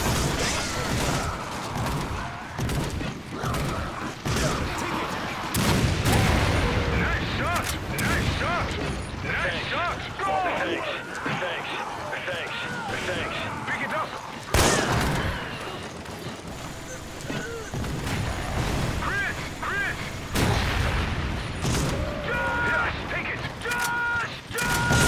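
Gunfire and mechanical weapon clatter from the video game Resident Evil 5 in a Mercenaries match, with repeated shots and booms scattered throughout, mixed with voices talking over the action.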